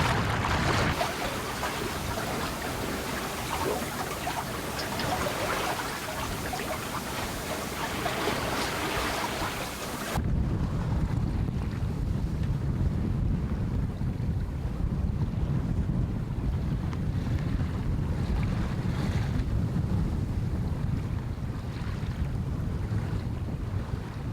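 Loud, steady wind of 10 to 13 knots roars over open water aboard a solo sailboat bound for Istanbul, with waves washing continuously; the tone shifts abruptly partway through and stays rough to the end.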